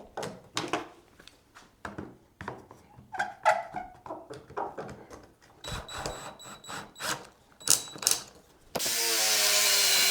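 Wood being drilled with a power drill for a rustic coat rack, the piece clamped to a table: a series of short, sharp grinding and ratcheting bursts up close, ending in a louder steady whir.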